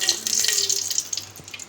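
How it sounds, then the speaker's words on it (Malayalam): Dalda vegetable ghee poured into a pan at the start of a pulao, a brief close liquid splash and trickle with a faint sizzle. "നമ്മൾ ആദ്യമേ ഡാൽഡ ഒഴിച്ച് കൊടുക്കുന്നു."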